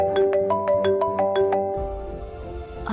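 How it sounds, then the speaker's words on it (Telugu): An incoming call sets a phone ringtone going in a domestic drama scene: about eight quick, bright melodic beeps in a steady pattern, then it stops abruptly, leaving a quiet room tone. "అత్తయ్య ఫోన్ చేస్తున్నారేంటి?"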